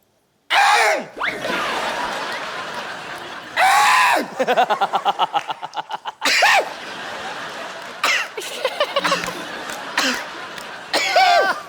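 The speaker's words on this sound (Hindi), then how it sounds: "आप कब तक गला साफ करती रहेंगी?" A woman on a comedy talk show stage repeatedly clears her throat and coughs in rough, strained bursts, with gasping and wavering vocal sounds between them, close and loud.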